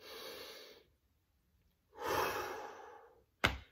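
A person takes a deep breath, a long exhale followed after a pause by a fuller, louder breath and a short sharp sniff at the end, close and quiet.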